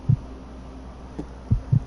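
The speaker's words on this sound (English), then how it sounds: "It's like a heartbeat almost." Heartbeat effect in Resident Evil Code Veronica X: low, soft thumps, a single beat then a close double beat after a pause, over a faint steady hum.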